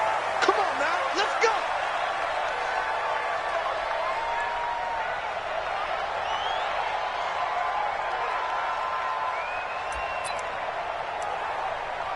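Steady stadium crowd roar from a PS4 American football video game, Cleveland Browns versus Dallas Cowboys, holding a constant wash throughout with a few sharp slaps or bumps near the start and faint whistles later.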